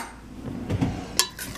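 Oatmeal being stirred inside a rice cooker, with a few soft scrapes and light metallic clinks of a utensil against the pot, one sharper clink standing out near the end, close up and fairly quiet.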